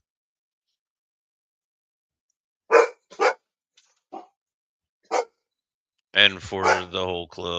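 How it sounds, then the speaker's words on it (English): A dog barks several times indoors, sharp isolated woofs spaced apart in a quiet room, followed by someone speaking. "Sorry about the dog."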